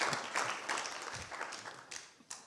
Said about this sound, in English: Can we get a round of applause for Michael? And Nina.